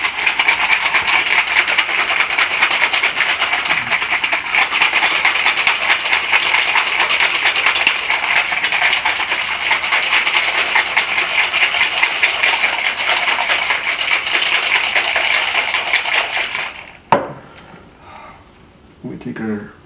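Absinthe or Herbsaint and water shaken hard in a cocktail shaker, a loud continuous rattling of ice for about seventeen seconds, then stopping with a few clanks.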